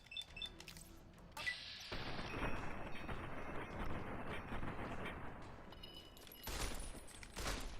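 Gunfire in the video game Fallout New Vegas during a VATS headshot, a loud burst with rumbling crash and sustained noisy roar, followed by another impact near the end.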